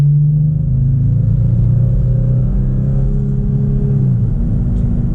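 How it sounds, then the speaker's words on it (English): A 2019 Toyota Tacoma TRD Pro pickup with a V6 engine accelerates from inside the cab, a steady loud low drone with engine tones climbing through the gears and a brief dip near the end. "Now let's get a little acceleration with this V6 here."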